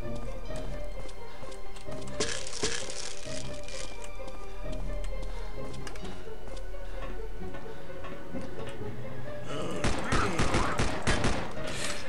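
Glock pistol shots ring out at zombies in the video game Land of the Dead: two clusters of rapid sharp cracks, one early and a denser volley near the end, over a steady background hum.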